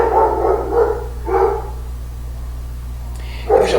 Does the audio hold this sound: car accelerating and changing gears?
no